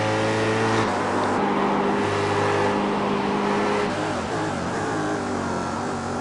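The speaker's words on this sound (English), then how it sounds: "Go on board with the Daytona Prototype race leader George Sandman for a lap around the Canadian Tire Motorsport Park." Daytona Prototype race car engine heard on board during a lap of Canadian Tire Motorsport Park, loud and continuous, holding steady tones then shifting pitch through gear changes with no talking.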